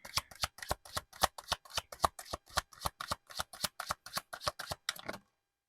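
Oracle cards shuffled by hand in a quick, steady rhythm of about twenty crisp overhand slaps, close and clear with no talk, ending abruptly.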